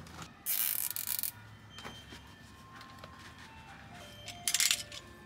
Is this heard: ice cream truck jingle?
yes